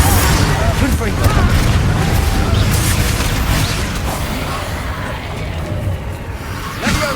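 Confringo blasting spell explosions in Hogwarts Legacy, dense booming impacts and crackling bursts layered under combat noise and character voices shouting, loud and continuous.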